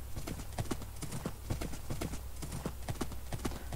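Minecraft horse hooves clip-clop in a steady trotting rhythm, crisp and close, over a low constant hum.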